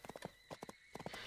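Horse hooves clip-clopping in the Barbie Horse Adventure video game during a race section: quiet, quick clusters of hoofbeats in a galloping rhythm, with brief pauses between bursts.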